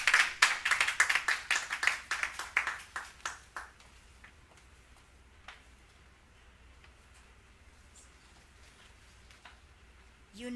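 Applause at a nurses and midwives excellence awards ceremony: a crowd claps loudly for about three seconds, then it fades to scattered claps and quiet room tone.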